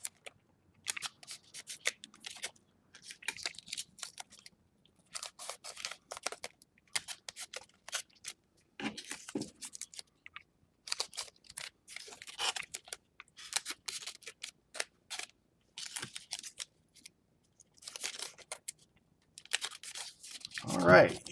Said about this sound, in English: I like to seal the sides of it with painter's tape